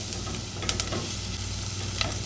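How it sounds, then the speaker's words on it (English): Onions sizzle in a pan in a steady, close crackle, with a few sharp clinks and scrapes from stirring. "you can probably hear the onions starting to sizzle away"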